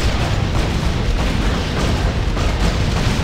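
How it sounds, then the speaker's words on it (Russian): Zombie blowing up in Torchlight 2, a dense, continuous low rumble of blasts and bursts filling the whole stretch at steady loudness, with no talk over it. "Давай, зомби, взрывайся."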